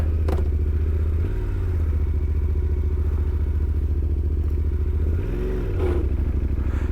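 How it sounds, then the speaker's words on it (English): A Yamaha Tenere motorcycle idles on a cold morning start, its steady low engine note carrying a clutch clatter and two brief wavering surges, heard close and alone. "Hear that clutch?"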